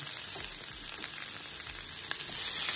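Julienne carrots, red onion, green peppers and garlic sizzle in hot canola oil in a pan, a loud, steady frying hiss with faint crackles throughout, close up and with no talk.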